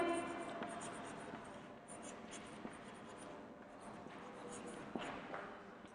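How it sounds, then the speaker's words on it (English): Chalk or marker scratches and taps on a classroom board during a geography lesson on Earth's motions, soft and intermittent with small strokes and knocks over quiet room noise. "Let me write it here."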